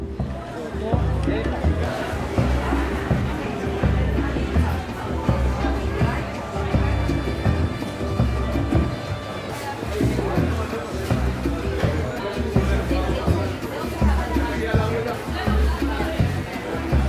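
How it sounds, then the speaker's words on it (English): Crowds of locals and tourists chattering in the streets of Jerusalem, a dense, continuous babble of many voices close and far, with shuffling and bustle underneath and no single voice standing out. "the throngs of pilgrims gave way to crowds of locals and tourists"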